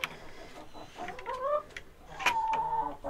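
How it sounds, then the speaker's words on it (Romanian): Chickens cluck close to a rural house at night, a few soft clucks followed by rising, drawn-out tonal calls, moderately near against a quiet background. "Găinile sunt foarte aproape de casă"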